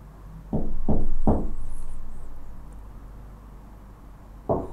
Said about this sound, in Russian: Ну, стучит дверь.